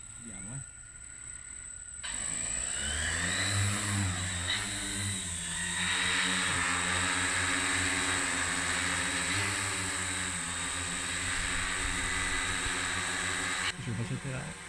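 A Tarot T910 multirotor drone in flight gives a continuous buzzing motor whine with a thin high-pitched tone above it, holding steady for most of the stretch, with voices faintly present.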